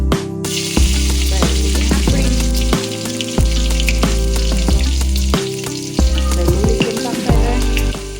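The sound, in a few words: mustard seeds sizzling in hot coconut oil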